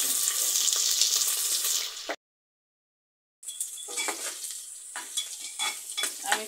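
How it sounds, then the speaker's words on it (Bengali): Onions frying in oil with bay leaf, cardamom, cloves and cinnamon for a beef and new potato curry give a loud, steady sizzle, cut off by a short silence before the sizzle returns with stirring clatter; no one speaks. "আমি পেঁয়াজটাকে একটু ভেজে নিলাম, একদম লাল লাল করব না"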